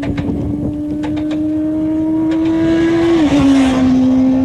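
A motorcycle engine rises steadily in pitch as the bike accelerates out of a corner under smooth throttle, a loud continuous drone with a brief dip and shift near the end, no voices.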